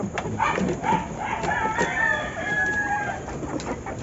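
Chickens and roosters on a labuyo and bantam farm cluck and call over one another, with a drawn-out crow rising in the middle, all close and busy with no talk.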